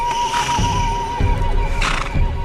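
A cartoon horse whinnies loudly and alone, a strained, wavering neigh with breathy snorts and low thumps in between.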